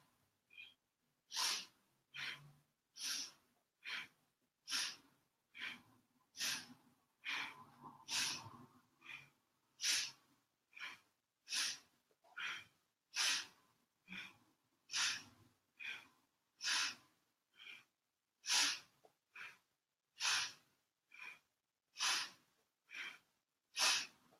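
Rhythmic nasal breathing during a Kundalini yoga stress set, about two dozen sharp, forceful nose breaths in a steady pulse, close and clear, with no talking.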